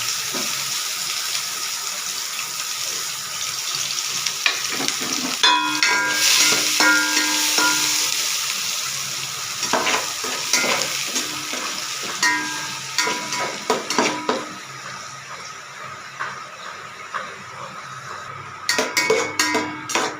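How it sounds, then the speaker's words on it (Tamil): Onions sautéing in hot oil for a mushroom gravy, a steady broadband sizzle running throughout with repeated clinks and scrapes of stirring, loudest in the middle and sharper knocks near the end. "முதல்ல வெங்காயத்தை வதக்கிடுவோம்"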